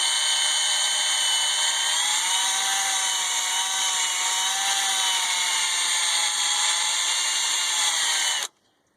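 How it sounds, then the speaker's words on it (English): A power drill whines steadily as a spinning wire wheel scrubs a surface during a water pump replacement on a 2007–2013 GM SUV, holding a constant pitch for several seconds before cutting off abruptly. "I like to use a wire wheel on my drill to clean the surfaces"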